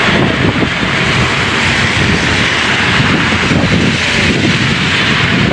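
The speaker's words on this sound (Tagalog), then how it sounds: "Lakas ng hangin, no?" Strong wind from a severe tropical storm roars steadily and loudly across the microphone, a constant rushing buffet with no voices.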